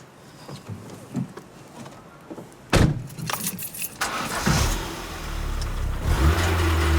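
A car that has been filled with the wrong fuel is started: keys jangle, the ignition catches with a sharp burst, and the engine revs roughly and loudly, growing and surging over several seconds.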